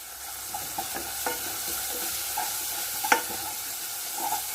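Sliced onions sautéing with garam masala powder for an egg roast sizzle steadily up close, with soft scrapes and taps of stirring scattered across the continuous hiss and no voices.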